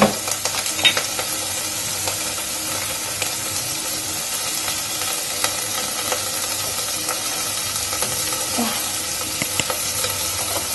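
Oil sizzling in a pan during stir-frying, with extra oil just added, a steady loud hiss and crackle running throughout with scattered pops and spatula scrapes.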